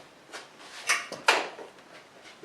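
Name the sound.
Jeep JK door being shut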